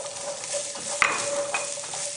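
Carrots going into a stew pot of beef barley stew and sizzling, a steady, moderate frying hiss with a brief clink as they land and light stirring afterward.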